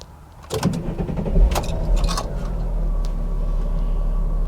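A 1997 VW Eurovan camper starts up: keys jangle and click up close, the starter cranks briefly, then the engine settles into a steady low idle.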